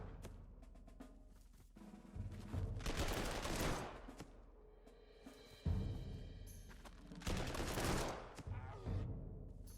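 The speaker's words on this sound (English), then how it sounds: "Yeah, lots of fire here from all the enemy troops." Enemy troops firing in the WWII strategy game Panzer Corps 2: dense bursts of rifle and machine-gun fire come in repeated loud volleys that swell and fade, with no talking.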